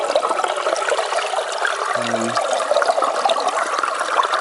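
Water rushes steadily through a gold prospecting sluice at Reedy Creek, a continuous close trickling and splashing flow with no breaks, a short low tone briefly sounding underneath midway.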